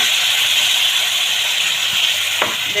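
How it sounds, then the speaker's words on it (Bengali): Water poured into a hot cooking pan of fish curry, a steady loud steamy hiss and sizzle sustained for a few seconds, close by and alone. "এখানে সামান্য একটুখানি জল দেবো"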